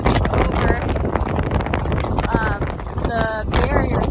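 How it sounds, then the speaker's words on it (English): Strong wind blows on the Lake Erie shore on a cold day, battering the microphone in continuous loud gusts with crashing waves underneath. "so it's really windy and awesome"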